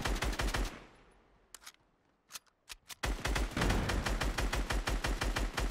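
Rapid .50 cal gunfire in a Fortnite match hammers in a fast automatic stream, stops for a quieter stretch with a few isolated shots, then resumes as a loud, sustained burst.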